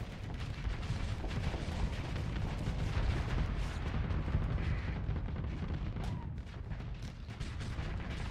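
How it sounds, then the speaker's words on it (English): Locust missile launchers fire continuously during a space battle in the game Starsector, a dense, steady roar of rumbling launches and blasts with no pauses and no voices. "keep firing my locusts out"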